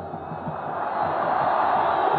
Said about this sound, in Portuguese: É a torcida do São Paulo agora provocando o jogador Nelsinho